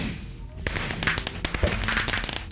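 Fireworks in a video game dungeon crack and pop in rapid bursts, with sharp snapping bangs layered over continuous game noise and music.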